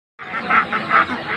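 Ducks quack loudly and close at a pigeon and poultry market, a few rough honking calls in quick succession that start abruptly out of silence.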